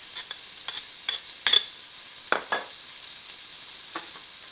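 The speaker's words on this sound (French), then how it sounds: "suer mon oignon, mon gingembre et mon ail" Onion, ginger and garlic sweating in a pan for spiced rabbit, giving a soft steady sizzle with a few brief stirring scrapes scattered through, fairly quiet and close with no talking.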